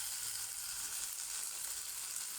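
Sweet potato leaves sauté in a pan, Filipino ginisa style, making a continuous bright frying hiss that stays even and close throughout.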